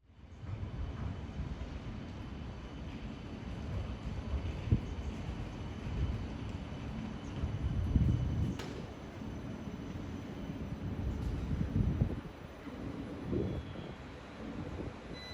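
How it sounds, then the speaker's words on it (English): A Newcastle Light Rail battery-powered tram pulls into a station platform, a steady low rumble with rolling rail noise and some wind buffeting, swelling slightly as it nears and settling without any talk. "Here is a tram coming into the platform."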